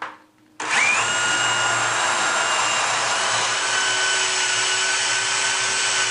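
A power drill starts abruptly and whines loudly and steadily as it grinds through ceramic tile, running continuously without pause.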